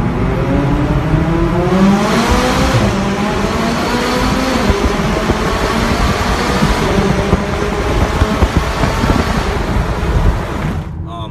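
McLaren 570S V8 sports car driving, its engine droning and rising and falling through gears from inside the cabin, a steady loud hum with road noise throughout.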